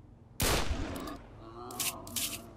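Gunfire in a hunting video game: a sudden loud shot followed by a fading rumble, then two more quieter bursts close together.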